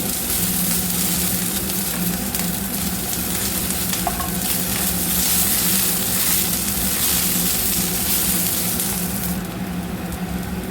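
Oil sizzles steadily in a deep pan as food fries for tomato chutney, a continuous close crackling hiss with occasional stirring scrapes and no talking.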